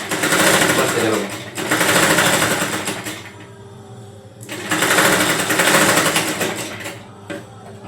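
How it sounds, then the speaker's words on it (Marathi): An edge machine, an overlock sewing machine, stitches along the edges of fabric in two loud, close bursts of rapid whirring, each lasting a few seconds and separated by a brief quieter pause. "दोन्हीकडे एज मशीन मारून घ्यायची"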